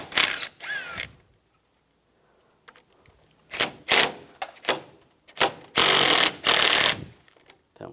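A ratchet fitted with an 8mm socket backs out radiator bracket bolts on a 2004-2009 Toyota Prius, giving several short bursts of rapid clicking close up, separated by quiet pauses.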